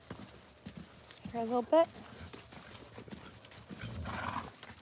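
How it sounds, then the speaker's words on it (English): A horse being warmed up clip-clops softly in the background, quiet hoofbeats under a person speaking briefly, with a short whinny-like call in the middle. "This is my college horse that I've had for years now, over a decade."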